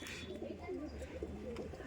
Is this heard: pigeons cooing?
yes